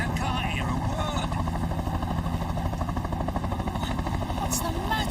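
A cartoon helicopter makes a loud, continuous rotor racket with rapid thumping, close by, as characters' voices sound over the clatter.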